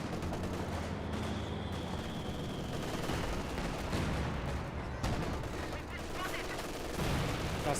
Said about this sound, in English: Got some AT gun shots there onto the T-485